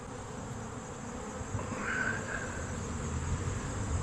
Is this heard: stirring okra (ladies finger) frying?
no